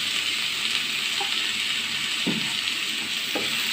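Onions fry in coconut oil in a pan for a banana chilli fry, a loud steady sizzle with a couple of soft scraping stirs and no talk.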